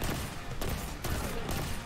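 Hand cannon fire in the video game Destiny 2, a few sharp loud shots at roughly half-second intervals over a dense noisy wash of gameplay sound.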